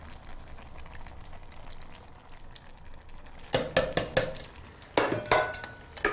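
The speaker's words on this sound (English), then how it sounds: "Stir these in." Canned chopped tomatoes get stirred into mushroom liquid with a spoon, soft wet scraping and a few sharp clinks against the pot over a low simmer, close and without talk.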